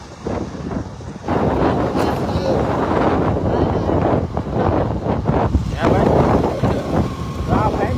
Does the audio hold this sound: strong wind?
yes